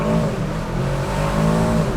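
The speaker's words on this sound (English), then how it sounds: "Let's just do another launch control." An Aston Martin DBX 707 SUV pulls off under launch control with a loud, sustained engine roar that stays strong and close for the whole two seconds, with no talking.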